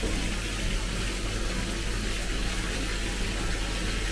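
Warm water rushing steadily from a loose shower head in a British motel bathroom, a loud, continuous hiss of high-pressure spray close by with no talking.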